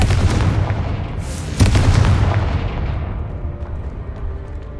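A Confringo spell explosion in Hogwarts Legacy gameplay, a loud booming blast with a sharp burst partway through, then rumbling decay fading away.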